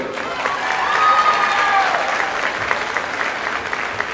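A crowd applauds senior players at a high school girls basketball game in a gym, steady broad clapping and cheering with an echoing roomy quality, continuous for the whole stretch.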